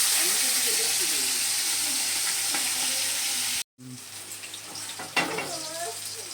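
Large fresh koi fish with roe fry in hot oil, giving a loud, steady, close sizzle that breaks off briefly, then resumes more softly with utensil scrapes and clatter.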